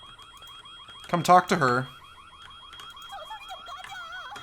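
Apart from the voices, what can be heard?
alarm beeping in the video game White Day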